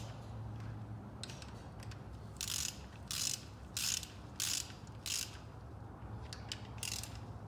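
Ratchet snugging bolts on a 24-valve 5.9 Cummins engine during rotating assembly installation, giving a close run of five or six short, quiet clicking bursts evenly spaced over a low steady background hum.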